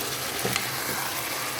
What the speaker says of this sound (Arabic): ودابا كنخليوها حتى تقلى مزيان